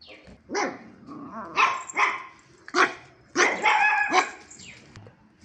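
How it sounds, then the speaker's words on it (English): Several puppies bark in short, excited yips and bow-wows while playing, overlapping irregularly, close by and loud, with playful whimpers between bursts. "You saw our puppies play."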